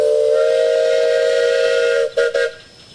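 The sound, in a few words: two-tone steam engine whistle at parade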